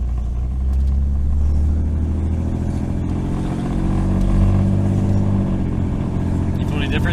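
A 1988 Jeep engine drones steadily while driving and shifting into second gear, a loud, close, continuous low rumble with slight rises in pitch, and people talk over it.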